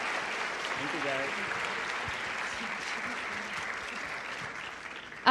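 An audience at the 2014 YJA Convention applauds after a keynote address, giving a dense, steady round of clapping that holds at an even level for several seconds before a sudden loud burst right at the end.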